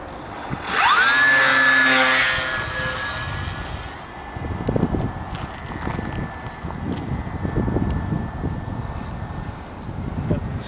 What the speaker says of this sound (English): So here we go with the maiden flight of the Piper Cub.